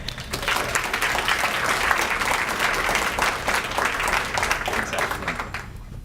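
Sustained applause from a gala audience welcoming a speaker, a dense, steady wash of many hands clapping at even loudness for about six seconds with a faint crowd murmur beneath.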